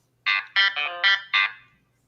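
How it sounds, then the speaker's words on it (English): A phone's YouTube notification chime plays five quick bright tonal bursts in a clear, fairly loud sequence, alone with no talk over it, then fades out. "That was my YouTube notification going off."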